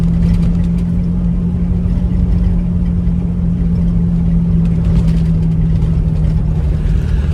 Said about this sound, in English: All right, we made downshift going up this hill.